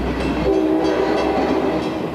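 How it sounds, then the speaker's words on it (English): A commuter train rolls through the small town of Alviso without stopping, a loud close rumble of wheels and engine with a brief steady horn tone in the middle. "a second rail line runs commuter trains through town, but they don't stop"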